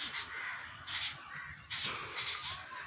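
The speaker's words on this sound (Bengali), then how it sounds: "পাখির গুঞ্জন কি আপনারা শুনতে পাচ্ছেন কিচির মিচির করে" Birds call outdoors among mango trees, giving several faint, harsh caws in short repeated bursts over a steady background.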